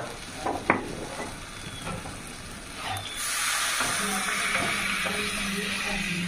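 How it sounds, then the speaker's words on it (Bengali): Hot water poured into a pan of chicken pulao rice, a splash and stir at the start giving way to a steady sizzling hiss that holds to the end, close and fairly loud. "4 কাপ জল দিচ্ছি, গরম জল।"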